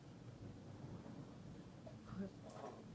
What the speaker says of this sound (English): Let's see if we should get a thunder crack pretty soon.